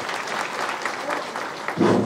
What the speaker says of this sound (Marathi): तिच्यासाठी जोरदार टाळ्या झाल्या पाहिजे